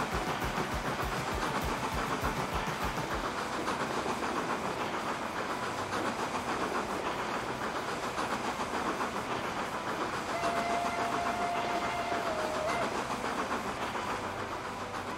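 A train pulls into a station in the video game Transport Fever 2, with a steady loud rumbling engine and hiss, rhythmic wheel clatter at first and a brief tonal whine later, no voices.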